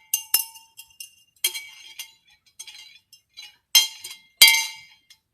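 A glass cocktail stirrer from a Goodwill haul clinks and chinks in several bright, irregular bursts as it is handled up close, with short quiet gaps between the taps.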